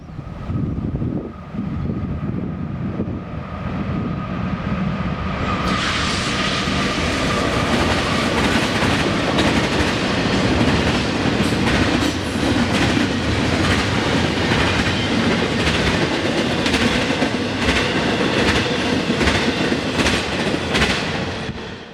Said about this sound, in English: an intermodal train had to pass